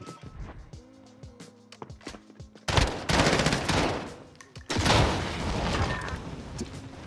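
Gunfire in a first-person shooter, Modern Warfare, with scattered single shots and mechanical game sounds at first, then two loud sustained bursts of heavy firing and explosions.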